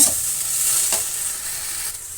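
Okra (bendekai) frying in a pan while making sambar, a steady close sizzle with a few brief stirring scrapes and no talk.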